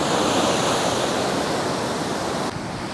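Sea waves washing onto Benidorm beach where someone paddles at the shoreline, a loud, steady hiss of surf and churning water close by, with faint wind noise.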